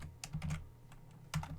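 A few soft keystrokes on a computer keyboard come in two short bursts, quiet and close, over a low steady hum.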